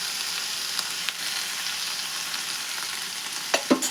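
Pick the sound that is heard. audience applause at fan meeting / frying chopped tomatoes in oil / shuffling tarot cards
frying chopped tomatoes in oil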